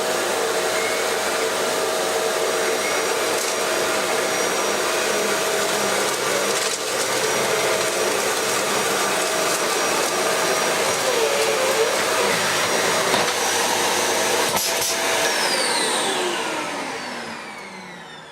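A Dyson DC75 Big Ball vacuum cleaner runs at a constant loud, close whine and rush for about sixteen seconds, with faint rattles of debris, before the motor winds down at the end.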